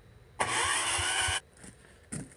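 Chinese 10 HP diesel engine cranking in one loud, sustained whir of about a second, followed by fainter clunks and a short second burst.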